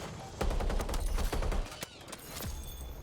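Rapid gunfire from an attack helicopter's gunner seat in Battlefield 6, dense bursts of loud cannon shots with a brief lull before a final few rounds.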